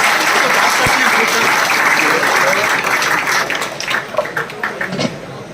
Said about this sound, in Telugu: దయచేసి మీరు అందరూ కూడా ఒకసారి చప్పట్లు పెట్టి వాళ్ళకి